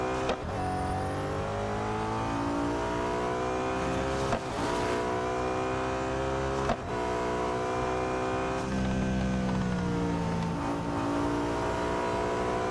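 Race cars lapping in Real Racing 3, engines roaring continuously with steady high revving whine and gear-shift dips, a busy, loud track mix with occasional tire noise and passing cars throughout.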